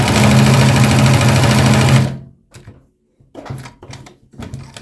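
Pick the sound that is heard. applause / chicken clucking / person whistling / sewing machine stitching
sewing machine stitching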